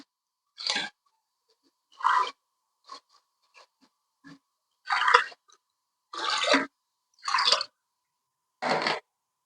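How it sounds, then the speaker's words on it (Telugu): Water poured from glasses into a cooking pot for bagara rice, heard as a series of short, separate splashing pours with quiet gaps between them. "నాలుగు గ్లాసులు వాటర్ పోసుకుంటున్నాను"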